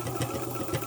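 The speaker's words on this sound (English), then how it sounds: "So let's go ahead and do some stitches." A 1941 Singer 66 sewing machine with a serviced motor runs long stitches: a brief, close, smooth mechanical hum with light rhythmic needle knocks, no voices.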